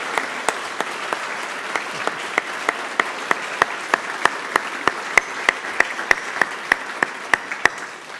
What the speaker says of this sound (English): would you join me in giving a big round of applause to Patricia